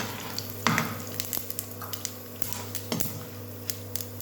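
Red chillies and cashews frying in hot oil, a steady gentle sizzle broken by small pops and crackles.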